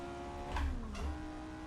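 A steady Lotus 49 racing car engine drone in a video game at the 1968 Fuji circuit, with a rising whine and two short surges of revving, continuous and fairly close.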